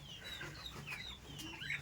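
Several chickens clucking at a farm, irregular overlapping calls at close to mid distance over a steady low background hum, with no one talking.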